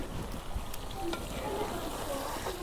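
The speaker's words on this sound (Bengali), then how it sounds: "বেশি নাড়া দিম না, আইলে গেলে বিজল বাইরে দেব। লাহে লাহে লাড়তেছি।" Beef from a sacrificial cow with taro stolons is stirred slowly in a pot, a steady close-up rustle and low sizzle with soft scraping and no talking.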